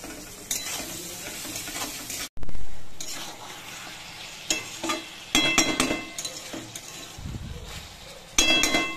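Chopped garlic, onion and whole garam masala spices sauté in a pan for mutton kosha, with loud close sizzling that rises in bursts as the food is stirred and scraped.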